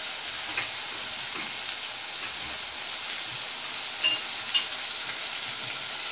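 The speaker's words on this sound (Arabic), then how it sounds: "شوحت اللحمه فيها اهي" Meat sautés with onions in a pan, giving a steady hiss of frying and sizzling with small crackles and an occasional stirring scrape, no voices.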